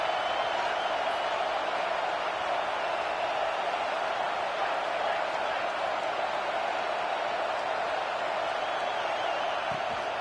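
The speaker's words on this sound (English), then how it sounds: "This crowd ready to make its presence known." A college football stadium crowd roars as a continuous, dense wash of cheering noise, steady and unbroken from start to finish.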